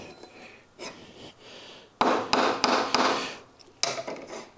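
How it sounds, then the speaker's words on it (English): A wood-turning tool rest on a bench grinder is tapped to set the sharpening angle, giving several sharp knocks in quick succession, followed by grinding and rubbing noise and one last tap. "now as I tap it down a little bit more"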